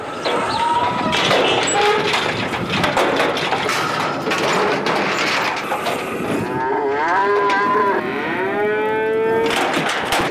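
A cow on a US ranch moos loudly and repeatedly before branding, long drawn-out lowing calls rising and falling close to the microphone amid rattling, clanking pen noise.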